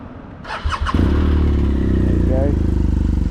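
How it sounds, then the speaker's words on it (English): A touring motorcycle engine cranks briefly, catches and settles into a close, loud, steady idle with rapid regular pulsing, a rider's voice briefly heard over it. "Let's get this engine on."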